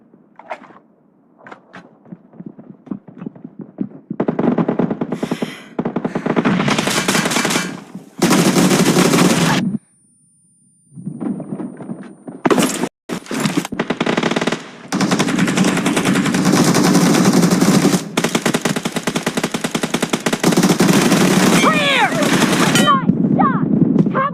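Automatic weapons fire in the mobile shooter PUBG Mobile comes in long, loud bursts broken by short pauses and near-silent gaps, some volleys rattling rapidly for several seconds.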